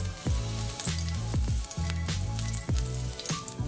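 Chopped garlic hitting hot oil in a pan for sooji upma: a loud, continuous sizzle with repeated bursts and crackles as pieces are stirred, close and with no voices.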